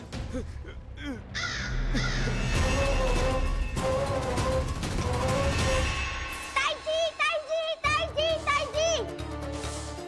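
A crow caws repeatedly in a loud, close series amid a dramatic scene with busy music and background sound, as a voice speaks briefly near the start.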